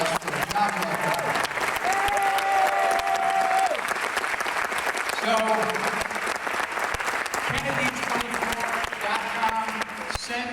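Audience applause at a political event screening, a steady dense wash of clapping filling the room throughout, with a voice speaking over it near the start and tonal music or sound rising underneath.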